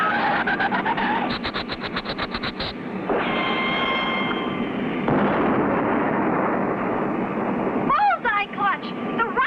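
A cartoon rocket chasing a flare sounds as a fast burst of rapid pops followed by a long rushing roar, which shifts into a louder blast-like rumble before a voice briefly cuts in at the end.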